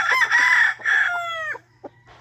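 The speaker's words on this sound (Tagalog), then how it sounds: "Ari ra ko sa manok nga ako'y tig patuka, tig purga, tig inject sa ilahang bilamil." A backyard rooster crows one loud, close cock-a-doodle-doo with a falling final note, followed by a couple of short clucks.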